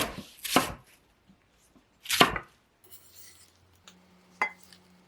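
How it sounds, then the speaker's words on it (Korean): A knife chops green onion on a cutting board for a cabbage roll dish, giving a few sharp, crisp strokes with pauses between them, close and clear in a quiet kitchen. "대파는 채 썬 당근 길이에 맞추어 썰어주세요."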